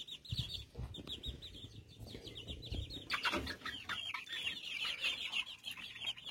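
Chickens cluck and chatter continuously at moderate distance, with several birds calling over one another and occasional louder squawks.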